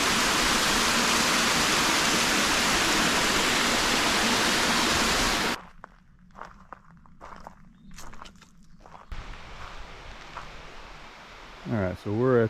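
A summer creek at Dry Creek Falls, loud and steady rushing water at first, then cutting to quieter moments with footsteps, rustling and a voice speaking near the end.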